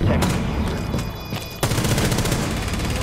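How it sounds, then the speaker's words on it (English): Rapid gunfire from a shooter video game rattles out in dense, loud bursts, a sharp crack near the middle and a fast stream of shots filling the rest. "I heard two shots discharged"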